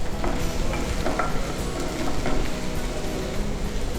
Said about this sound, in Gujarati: ત્રણેયને આપણે પ્રોપરલી સોતે કરી લેશું.